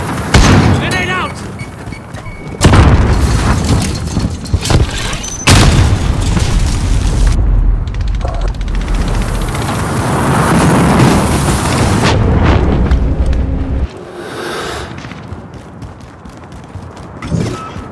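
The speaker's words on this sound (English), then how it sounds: "Grenade out!" Grenade and gunfire explosions in a tactical shooter video game: several loud, heavy booms with rumbling tails over a busy background of firing and voices.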